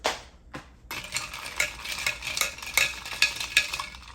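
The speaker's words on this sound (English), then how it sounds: "Now we're going to stir it." A spoon stirs ginger lemon tea with maple syrup and garlic in a cup, giving a few opening clinks followed by a steady, close scraping swirl with light rhythmic taps against the sides.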